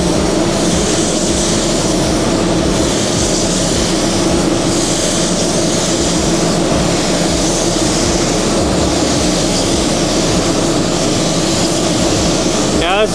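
A spray gun lays a second coat of Alpha automotive paint with a loud, continuous broadband hiss backed by a steady compressor drone, unbroken for the whole stretch.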